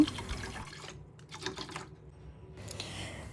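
Water is poured over washed lentils in a pot for dal, a close splashing and trickling in short bursts separated by a brief lull, fairly quiet and with no talk.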